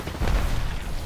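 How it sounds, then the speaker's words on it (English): A grenade goes off in the Apex Legends video game, one short, heavy low boom that swells quickly and rumbles for about a second. "threw my grenade!"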